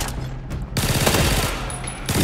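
Gunfire from a full-auto M110 rifle in the shooter game Arena Breakout, a dense fusillade of rapid shots starting after a brief pause and running loud and continuous to the end, with no talking.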